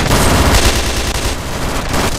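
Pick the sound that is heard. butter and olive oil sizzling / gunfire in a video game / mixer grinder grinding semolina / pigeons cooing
gunfire in a video game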